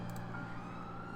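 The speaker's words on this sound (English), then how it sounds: "Sorry for the sirens." Emergency vehicle sirens drift in through an open window on a hot day, a steady, fairly faint wail sustained throughout the short stretch without any talk over it.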